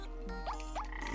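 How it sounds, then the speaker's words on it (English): Two quick rising croaks from exploding frogs in the BattleBlock Theater game, loud and close over a steady low game hum. "Exploding frogs."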